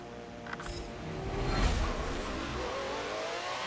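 A race car engine revving in the racing game Forza Motorsport 7, a surging mid-pitched growl that builds and holds with a whirring tone, fairly quiet and steady without speech.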